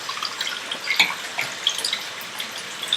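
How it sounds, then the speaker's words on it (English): A sink faucet runs water onto crystals being cleansed, giving soft continuous trickling with irregular light drips and splashes, close and moderately loud, with no speech. "you turn on the water, and let it run for like 5 minutes."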